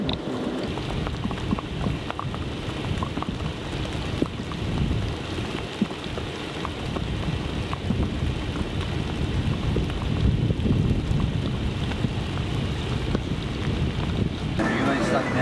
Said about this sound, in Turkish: Çok yağmur yağıyor, dışarı çıkamayız.